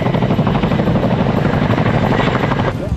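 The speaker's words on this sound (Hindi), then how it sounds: "ये चिनूक हेलीकॉप्टर है" Indian Air Force Chinook twin-rotor helicopter flying over Dal Lake in Srinagar during an air show, a loud steady rotor thrum with a rapid chopping beat that holds throughout, close and dominant.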